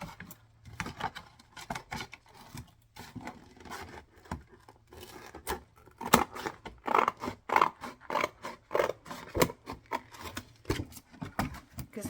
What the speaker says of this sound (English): I'm just going to cut it out very roughly at the moment and fix it with a trimmer in a minute.